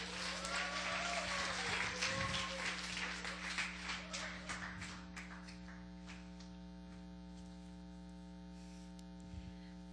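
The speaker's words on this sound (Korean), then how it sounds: "우리 박수로 이한나 학생을 모시겠습니다" Audience clapping to welcome a student speaker at a church mission testimony gathering, fading over the first half into a steady electrical hum, fairly faint.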